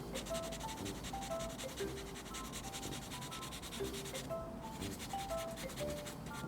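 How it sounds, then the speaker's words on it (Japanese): Sandpaper rubbing down hardened putty on a plastic model, a quiet close scratchy scraping in quick repeated back-and-forth strokes, with a brief pause partway through. "今も側尾側はほとんど削らずに、パテ側だけを削っているような感じです。"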